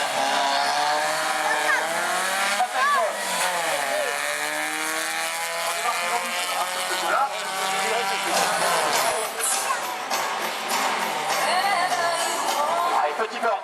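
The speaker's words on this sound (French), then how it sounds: "Une Goblin et son moteur turbo, vous entendez le sifflement du turbo." A Goblin race car with a turbocharged engine passes on a track, a loud, rising and falling engine roar with a high turbo whistle and gear shifts, under someone talking.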